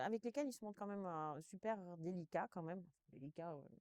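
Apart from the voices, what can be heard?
No everyday noises stand out.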